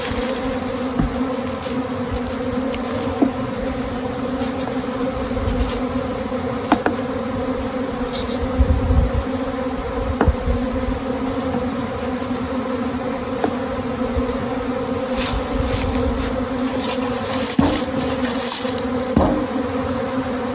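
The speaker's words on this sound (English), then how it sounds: "It's a lot of bees today," A spring honey bee swarm buzzes around a hive box, a dense, steady drone of many insects that holds for the whole stretch, close by, with a few brief louder passes and no talking.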